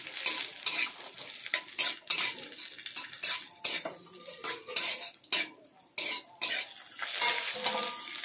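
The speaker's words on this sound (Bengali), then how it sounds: "কড়াইয়ের মধ্যে সাদা তেল দিয়েছি। এর মধ্যে আমি কাজু ও কিশমিশ দিয়ে দিচ্ছি" Cashews and raisins fry in white oil in a wok, with soft sizzling under repeated scraping and clinking of a metal spoon stirring against the pan, the strokes close and irregular.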